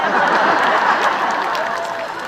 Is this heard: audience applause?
yes